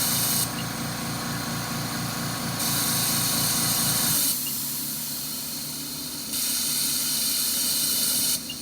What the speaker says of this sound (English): You hear the compressor, it's running.